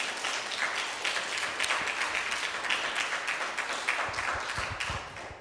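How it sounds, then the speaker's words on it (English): Audience at a community evening forum gives a round of applause, a fairly quiet, steady patter of many hands clapping together, with a few louder claps standing out near the end. "if we can give a round of applause"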